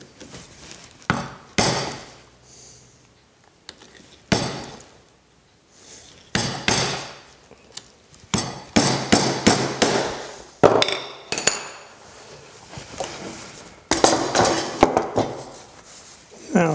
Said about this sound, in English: this is what's called a Japanese barrel hammer